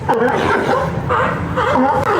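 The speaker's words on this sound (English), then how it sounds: "Barking sea lions are a regular sight in San Francisco's Pier 39" Sea lions bark at San Francisco's Pier 39, a run of loud, close, hoarse repeated barks with short gaps between them.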